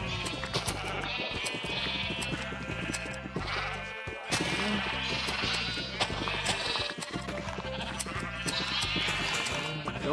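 Sheep bleat repeatedly in Minecraft VR survival mode, several wavering bleats layered over a dense, busy game soundscape, with no talking.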